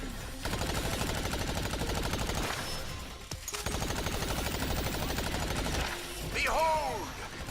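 Rapid, sustained automatic gunfire in the video game Agents of Mayhem, two long bursts of dense rattling shots with a brief pause between, fairly quiet overall, with voices in the mix.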